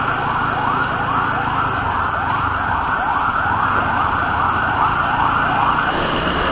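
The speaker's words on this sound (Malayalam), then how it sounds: "ഒരു ആംബുലൻസ് അവിടെ നിന്ന് പോകുന്നുണ്ടല്ലോ." An ambulance siren wails steadily and loudly as it passes through the busy Vyttila junction in Kochi on New Year's Day, its rising and falling tone repeating over a constant rumble of road traffic.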